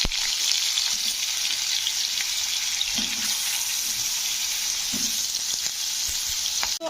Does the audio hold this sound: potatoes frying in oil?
yes